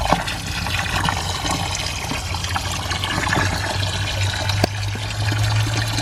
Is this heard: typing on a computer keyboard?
no